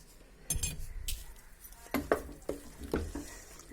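A spoon scrapes and knocks against a pot while stirring a thick taro (colocasia) curry, a handful of close metallic clinks and scrapes at an irregular pace, quiet otherwise.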